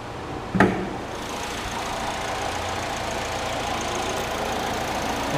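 A 2008 Chevy Cobalt with a 2.2 liter engine idles under the open hood, a steady, even mid-pitched hum held at constant level after a brief knock near the start.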